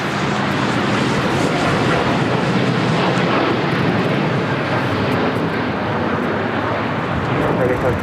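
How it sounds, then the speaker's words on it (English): Air Tahiti Nui 787-9 Dreamliner departing LAX for Paris, its engines a sustained, dense, powerful roar that stays strong and unbroken the whole time. "This is Air Tahiti Nui Flight 8 taking off to Paris on a 787-9 Dreamliner."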